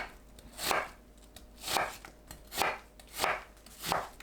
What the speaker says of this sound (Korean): 사과는 씨 빼고 채 썰어줍니다.